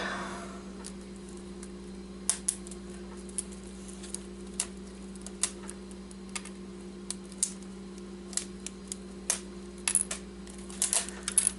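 Plastic keycaps pried and pulled from a broken computer keyboard during electronics scrapping, heard as scattered sharp clicks and snaps at irregular intervals, clustering toward the end, over a steady low electrical hum.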